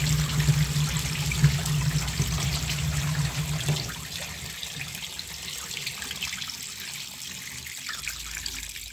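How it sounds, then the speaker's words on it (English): Water runs and trickles out of old, clogged piping beneath a house while a tap runs full blast, a steady splashing stream that drops to a softer, thinner dribble partway through. "here's that water leaking out"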